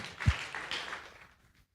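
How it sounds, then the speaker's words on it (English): Audience applause at a tech talk event, a short burst of clapping that swells briefly and then fades out quickly to silence. "Please give a round of applause for Terry."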